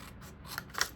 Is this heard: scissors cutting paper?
yes